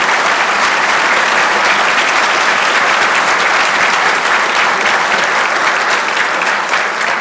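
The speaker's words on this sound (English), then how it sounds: "You deserve a round of applause for that." Loud, dense applause from a luncheon audience honouring a priest, sustained and even from start to finish with no voices standing out.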